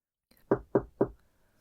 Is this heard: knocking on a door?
yes